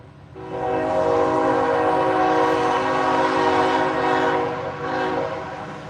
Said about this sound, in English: I hate trains.